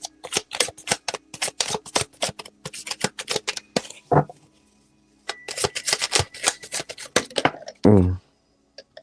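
Tarot cards are shuffled in quick rapid bursts of riffling flicks, two long runs separated by a pause, with a brief soft murmur near the end.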